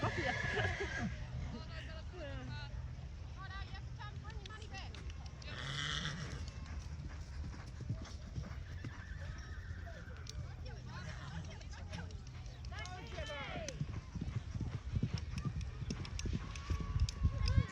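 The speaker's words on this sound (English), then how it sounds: "Tell me about your horse" Horse hooves clip-clop at the Reefton A&P Show, a country show in New Zealand, in a loose, irregular rhythm close by, under chatter and crowd murmur from people nearby.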